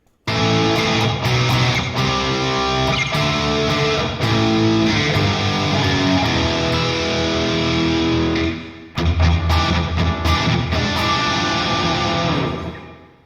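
Dense, sustained electric guitar playing through an amp, washed in heavy reverb, loud and continuous with a brief dip before resuming.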